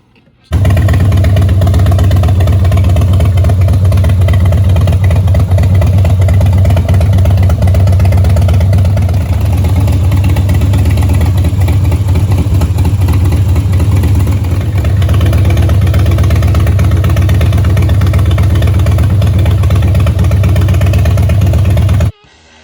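A Harley-Davidson Electra Glide FXRT fitted with a Danmoto 2:1 exhaust idles steadily and loudly for about twenty seconds, a deep, even low rumble with no talk over it.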